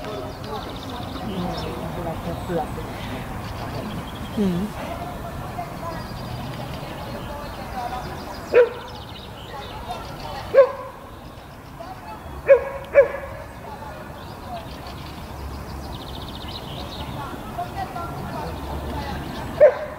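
A hunting dog named Nelson at a field trial gives a handful of sharp, scattered yips and barks, mid-distance outdoors, over a steady background with people talking.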